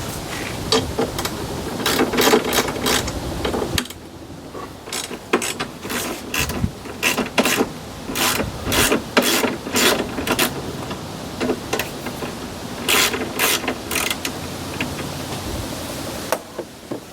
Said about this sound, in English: 2 30mm bolts on each side, just your regular wrench under the bolts.